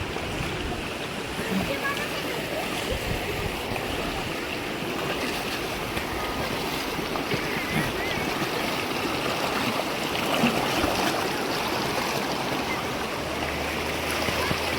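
River water rushes steadily as a vehicle crosses mid-river on the Vaghai track, a loud, continuous, close wash of flowing water with no break throughout.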